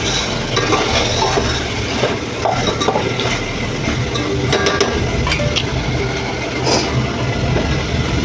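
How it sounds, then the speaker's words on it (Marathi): Pieces of washed chicken with salt being stirred in a hot cooking pot, a continuous sizzle under frequent scraping and clinking of a spoon against the metal, close and fairly loud. "चिकन आपलं मस्त आता जरा हलवून घेऊया आपण"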